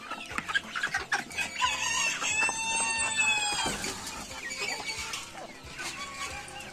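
Several chickens cluck and squawk close by, with a drawn-out crowing call rising in the middle over a busy farmyard background.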